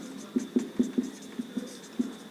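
Chalk or marker writing on a board, a quick series of short tapping strokes in an uneven rhythm, close and clear over a faint steady hum.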